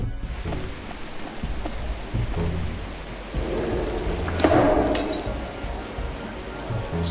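Steady rain hisses throughout a video game scene, with low thunder rumbling and a glassy crash partway through; no speech over it.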